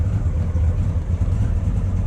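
A motorcycle engine idles steadily during a carburetor sync, a low, continuous rumble with even pulsing, close and fairly loud, with no talking over it.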